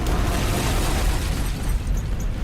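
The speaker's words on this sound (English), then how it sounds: "I have different explosions." A sustained, rumbling explosion effect with a dense low roar that stays loud throughout, no voices.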